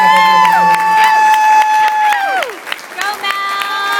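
Audience applause and cheering for Mel Intemann at a JLG event, a loud crowd clapping steadily with whoops and shouts over a sustained tone, thinning briefly near the end before swelling again.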